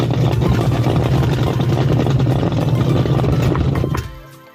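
A twin tub washing machine motor whirs and rattles loudly and steadily for a few seconds, then winds down abruptly near the end.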